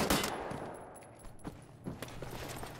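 Short bursts of gunfire from Wolfenstein: The New Order echo in a quiet game scene, with a sharp volley at the start and a few fainter shots following.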